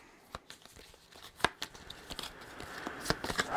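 Board game cards from a pirate-themed legacy game shuffled by hand, a few sharp riffling bursts and soft papery flutters standing out over low room noise, close and fairly quiet.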